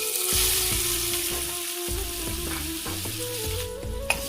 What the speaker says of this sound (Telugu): నూనె కాగంగానే ఉల్లిపాయ ముక్కలు వేసేసుకోండి